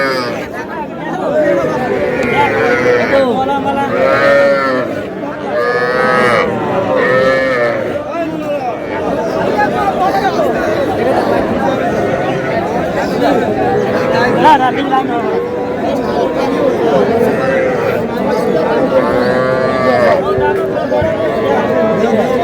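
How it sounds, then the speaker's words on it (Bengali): A young bull calf moos repeatedly amid constant crowd chatter and bargaining at a busy cattle market in Madaripur, Bangladesh. The lowing calls come loudest in the first several seconds, then are partly buried under the steady hubbub of voices. "ষাঁড় বাচ্চা"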